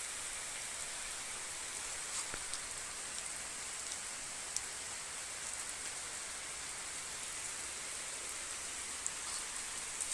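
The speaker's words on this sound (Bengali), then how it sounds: "সব দিকে বৃষ্টি পড়তেছে, সব দিকে বৃষ্টি" Rain falls all around a school, making a soft, even patter with occasional sharper drips rising above it, and no one speaks.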